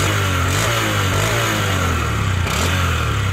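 Honda SP 125 BS6 motorcycle with a refined exhaust note, idling steadily and close by with a low, even drone that rises briefly in a light rev midway before settling back.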